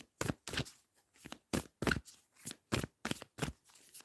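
A deck of oracle cards is shuffled by hand, about ten quick, crisp riffling bursts in a steady rhythm, close and fairly quiet with short pauses between.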